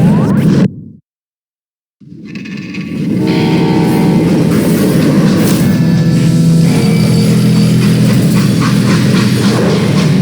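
Freight train rolling along in the Western game Call of Juarez Gunslinger, a steady loud rumble with a rushing whoosh that rises after a brief silent gap and holds to the end.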